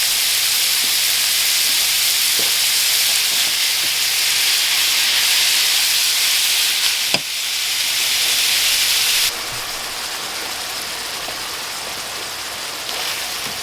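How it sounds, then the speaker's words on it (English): Hamburger meat browning in a pan for a taco tater tot casserole makes a loud, unbroken sizzling hiss that holds steady throughout and drops slightly in level near the end. "we'll go ahead and fry up this hamburger"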